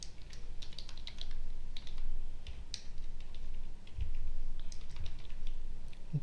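Someone types quickly on a computer keyboard while entering a Linux shell command, making a close, continuous patter of soft key clicks over low background hum. No one speaks.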